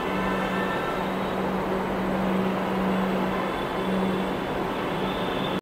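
An eight-coach broad-gauge ICF Medha metro train on the Kolkata Orange Line rumbles loudly and close by at a platform, a steady roar of wheels and motors with faint tonal whine.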